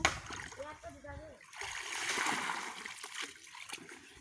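Pond water splashing as a tray pours water over someone being bathed, a burst of splashes and gurgles after a brief voice, rising and fading over a few seconds with people talking nearby.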